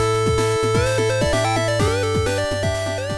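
Bright square-wave chiptune melody made in FamiTracker on a computer, over a buzzy bass line and snappy noise percussion, busy and steady, with no voices.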